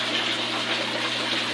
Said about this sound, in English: I tee off of that pump that's going back so that I can drain it